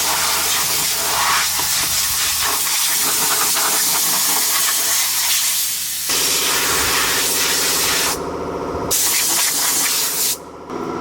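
Compressed air blasts a continuous loud hiss through a tractor's radiators, roaring steadily with brief cutoffs and restarts near the end.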